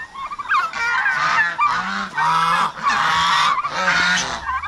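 Pet ducks kept at a rural Filipino farm call loudly and close by in repeated harsh, honking bursts, several overlapping, with no talk.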